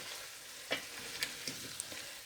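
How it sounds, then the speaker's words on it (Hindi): Ridge gourd fries in a pan with a soft, steady sizzle, a few faint stirring scrapes, and no talking. "तो इसको आप भूनेंगे काली तोरी के साथ"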